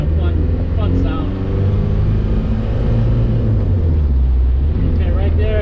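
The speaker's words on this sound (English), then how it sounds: "You can hear the turbo?" A Suzuki Samurai diesel engine accelerates with its turbo spooling, a steady loud low drone with rising and falling engine tones and a faint whistle above, continuous and close throughout.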